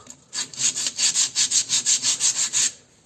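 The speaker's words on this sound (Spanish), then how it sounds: "le vamos a dar un poquito de lija también, con una lija algo más vasta" Rhythmic scraping of coarse sandpaper rubbed back and forth over oil-contaminated brake shoe linings, about fourteen steady strokes, close up with no talking.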